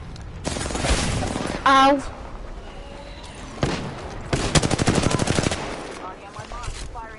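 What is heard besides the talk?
gunfire in the video game Apex Legends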